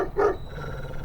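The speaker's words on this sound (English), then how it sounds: "Oh Gott, der Köter." A dog in the video game Alter Ego lets out a single short bark, close and fairly loud, trailing into a low growl.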